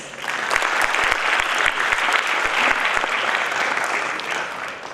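Steady, dense applause for volunteers from a sizable crowd at a national-level hackathon, loud and sustained for the whole stretch with no voices on top.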